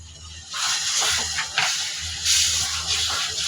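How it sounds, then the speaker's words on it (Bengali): Mango pieces hiss and sizzle steadily in hot oil with fried onions, a loud bright frying crackle that surges as the fruit hits the pan and stays continuous with no talking. "এখন আমি এই তেলের ভিতরে আমি এই যে আমগুলি ঢেলে দিলাম।"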